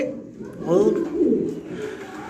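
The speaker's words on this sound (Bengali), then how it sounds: "এখানে আরও এক জোড়া কবুতর আছে" Fancy pigeons coo nearby in soft, throaty warbling calls, two rolling phrases back to back over a low background hum.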